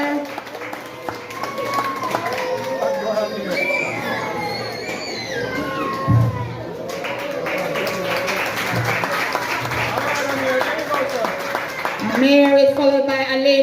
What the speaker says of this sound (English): Come on, cheer the children on.